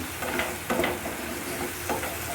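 Spice paste frying and being stirred in a pan for a mola fish and ash gourd curry, a steady close sizzle broken by three scraping stirs, with no talking.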